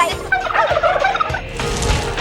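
Turkeys gobble on a farm raised for Christmas dinner, a flock of rapid, warbling calls overlapping close by and fairly loud, with no talk over them.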